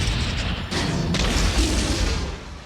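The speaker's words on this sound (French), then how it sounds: "et voiture qui explose." A car explodes in a Mission: Impossible film, a dense roaring blast that rumbles and crackles for a couple of seconds before slowly fading.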